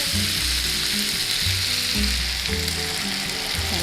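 Water poured into a hot pan of char siu meat sets off a loud, continuous sizzling hiss that lasts throughout, with background music underneath.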